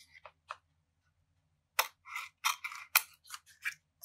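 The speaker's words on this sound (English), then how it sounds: "I can actually come in here and cut away the background, this thick background." Scissors snipping away thick paper background from a delicate collage image, a few soft early cuts followed by a quicker burst of close, crisp snips and paper rustles.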